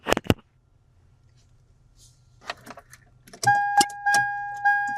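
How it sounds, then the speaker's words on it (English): A relay clicking off in the heated seat circuit of a first-generation Toyota Tacoma gives a couple of sharp clicks early, followed by faint rustling and then steady electronic tones with intermittent taps. "you'll see that it cuts off the circuit, opens up that relay, and you'll actually be able to hear that happen"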